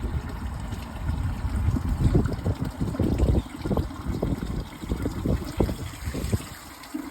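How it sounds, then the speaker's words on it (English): Water draining from the tank of a 2005 Crane Altas toilet, a steady close gurgling and trickling flow that holds loud throughout with bubbling surges. "So I'm gonna drain all the water from the tank and see if it'll take it."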